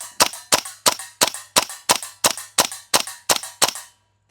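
Classic Army URGI MK16 gas blowback airsoft rifle firing about eleven sharp, loud, close shots in a steady semi-auto rhythm, each a crisp crack with a brief metallic clack, then silence.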